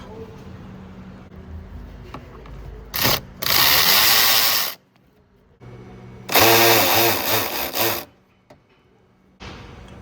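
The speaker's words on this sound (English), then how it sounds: "We're going to undo this boot by loosening this band clamp and this band clamp, then pull the boot off." Band clamps are loosened on the air intake boot of a Ram ProMaster van, heard as two long bursts of close, harsh whirring and rasping like a power driver, separated by quieter handling noises.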